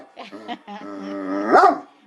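A big dog barks and growls in a short burst that swells to one loud, close bark near the end, with some whimpering tones around it and no talk over it.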